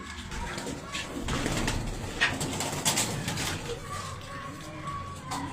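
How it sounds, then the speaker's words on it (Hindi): Pigeons cooing in a rooftop loft, a steady soft chorus of low coos with a few brief wing flutters and faint background noise throughout. "कबूतर भी देखे बड़े नफीस कबूतर बनाए"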